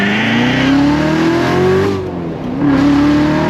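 A Lingenfelter-tuned LT4 V8 in a C7 Corvette Z06 revs hard under throttle, its loud rising roar dipping briefly around the middle before climbing again.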